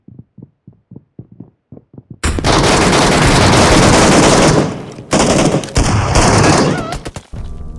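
Automatic gunfire in a mobile shooter video game, a rapid, loud sustained burst after a few sharp, quieter separate shots, cutting off briefly and resuming before stopping.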